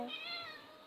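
A cat meows in a drawn-out, clear call during a home sewing session making leggings, close and fairly loud, with a short sound at the very end.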